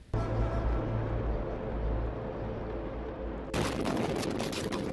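Explosion at a refinery in Lebanon: a loud, sustained roaring rumble, then an abrupt, harsher and brighter burst of noise near the end, with no talking.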